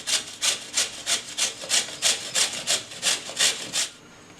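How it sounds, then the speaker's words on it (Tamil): Peeled beetroot is grated finely in a steady back-and-forth rhythm of about a dozen rasping strokes, close and clear with no talking. "இப்போ சின்னதாக சீவிக்கலாம்."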